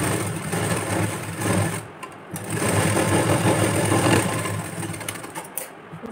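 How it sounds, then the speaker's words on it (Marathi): Sewing machine stitching the lining side of a blouse's cup piece at a half-inch seam, a steady close whirring drone running continuously with a brief pause midway. "1/2 इंचावरती आपण इथे स्टिच करतो"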